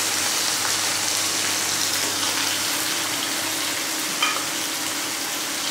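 Thin-sliced medium potato stirred into moringa greens frying in a pan, a steady, dense sizzle with soft stirring scrapes, close and continuous with no talk.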